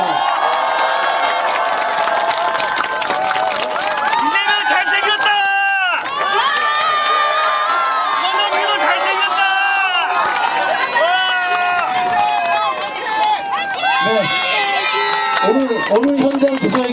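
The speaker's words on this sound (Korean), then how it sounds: "환영의 박수 부탁드리겠습니다." A large crowd at a Democratic Party press conference welcomes Lee Jae-myung with continuous loud cheering and excited shouts, densely layered and close.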